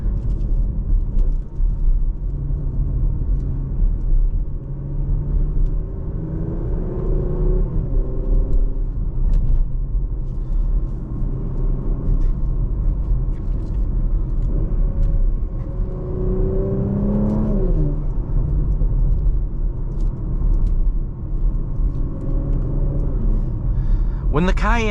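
A Porsche Macan GTS with a twin-turbo V6 and seven-speed PDK gearbox drives from the cabin, a steady low rumble with a few rising engine sweeps as it gears through, while someone talks over it the whole time.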